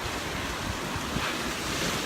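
Ocean waves wash steadily onto a beach in a dense, continuous roar of surf, with wind buffeting the microphone throughout and no voices.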